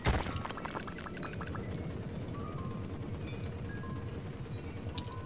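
Steady water pouring in the video game Dome Keeper, a continuous gushing stream that starts with a brief splash and runs evenly throughout, with no voices.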